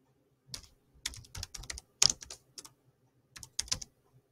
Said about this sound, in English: I want to try actually typing on this keyboard, see if it makes any difference, because this has shorter keys.